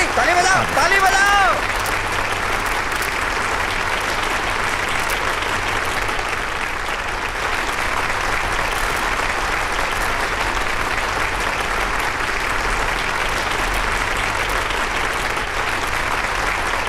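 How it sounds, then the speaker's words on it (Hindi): Steady, loud applause from a crowd fills a scene in a Hindi dubbed action film, continuous clapping sustained throughout with a brief voice near the start. "ताली बजाओ, ताली बजाओ"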